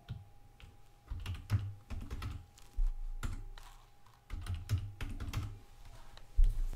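Fingers type a password on a computer keyboard, producing irregular clusters of close, crisp key clicks with short pauses and one heavier thump near the end.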